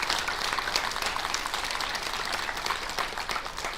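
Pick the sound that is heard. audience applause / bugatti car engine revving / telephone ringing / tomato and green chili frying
audience applause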